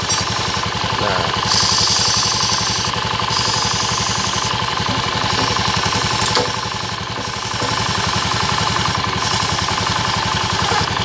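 Car engine running steadily after a noisy drive belt was fixed, with a fast even mechanical chatter and faint roller noise, close and continuous, no talking.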